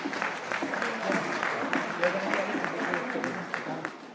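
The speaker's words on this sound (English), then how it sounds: "A round of applause for her, please." A conference audience at a productivity summit applauds continuously, a dense steady clatter of many hands with some voices mixed in, moderately loud throughout.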